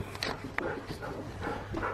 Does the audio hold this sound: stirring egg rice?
no